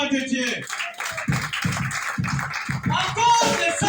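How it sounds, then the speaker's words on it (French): Church congregation clapping in a steady rhythm during a worship service, mixed with voices and fairly loud throughout. "Applaudissez pour la gloire de Dieu."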